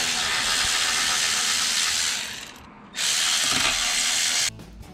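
A ratchet wrench works a car's throttle body loose, giving two close bursts of rapid, harsh clicking separated by a brief pause.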